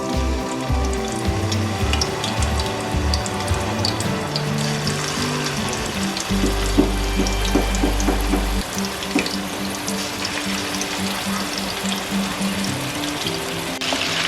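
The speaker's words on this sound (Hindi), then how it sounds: "घी हमारा प्री हीट हो चुका था, इसमें अब हम डाल देंगे" Beef koftas dropped into preheated hot ghee fry with a steady, close sizzle and bubbling that runs the whole time, with a few louder spits in the middle and no talking.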